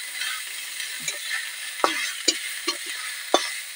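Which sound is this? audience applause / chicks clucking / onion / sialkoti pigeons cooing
onion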